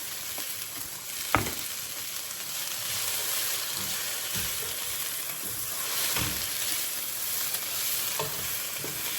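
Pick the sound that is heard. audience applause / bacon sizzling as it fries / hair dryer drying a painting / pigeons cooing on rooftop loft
bacon sizzling as it fries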